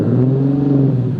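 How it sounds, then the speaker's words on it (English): Nissan 370Z Nismo with a Tomei aftermarket exhaust holding a steady, deep engine drone at raised revs, loud and close, a short continuous burst with no talk. "but the Tomei exhaust. I don't know if you guys can hear it right now"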